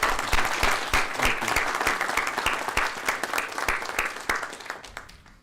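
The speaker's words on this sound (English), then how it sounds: "So let's all give Mr. Dickerson a hearty round of applause." An audience at a criminal justice board meeting claps in sustained applause, dense overlapping claps filling the room and then gradually tapering off toward the end.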